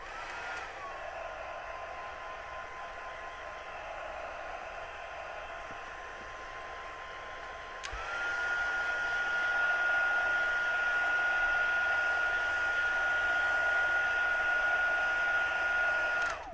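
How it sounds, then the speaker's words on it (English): A hair dryer blows steadily over a wet, embossed card layer in a paper-crafting session, a constant whooshing hum that jumps to a louder, higher setting about halfway through and runs alone without talk. "I'm just going to dry this just a teeny bit"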